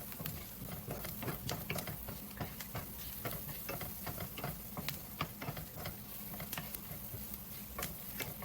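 A spoon scraping and clicking against a pan as pepper is stirred into cooking chicken, quiet rhythmic taps over a low steady sizzle.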